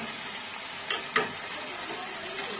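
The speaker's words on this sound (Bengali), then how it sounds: "এবার আমি এর মধ্যে গরম জলটা দিয়ে দিচ্ছি।" Hot water hits a pan of fried cauliflower and potato masala for an egg curry, setting off two quick sizzling hisses that settle into a low, steady simmer.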